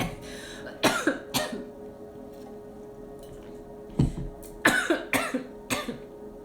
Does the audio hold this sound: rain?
no